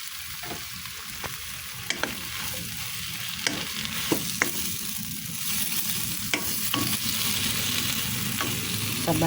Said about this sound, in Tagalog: Sunod naman, haluin. Maglagay ng oyster sauce.